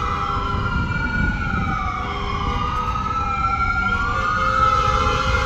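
A loud wailing ambulance siren sweeps up and down over rumbling traffic on 6th Avenue in Manhattan, New York City, the pitch rising and falling continuously and close by.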